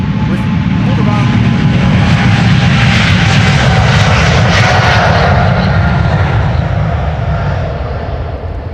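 Jet airliner departing on the Polderbaan runway at Amsterdam Schiphol Airport, a loud, close, sustained engine roar with a broad low rumble and a high whine, easing off slightly toward the end.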